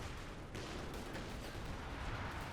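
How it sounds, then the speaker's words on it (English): Artillery rumbles faintly and steadily in a Company of Heroes 2 battle, a dense, distant wash of blasts and booms that runs without a break. "since they can't hold their front, we have more artillery coming down"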